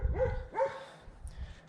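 A farm dog barking at a cat it cannot reach, two sharp barks close by followed by quieter whimpering yips.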